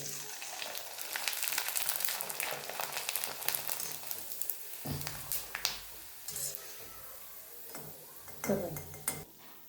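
Oil sizzles steadily as kurdai, Maharashtrian wheat wafers, fry, with occasional clinks of a utensil against the pan and a few sharper crackles throughout.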